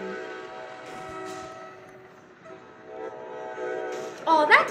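A blue train in a video game rolls along its tracks with a steady mechanical rumble and tonal hum, ending in a louder burst of sharp, shifting tones, while a voice talks over the game sound.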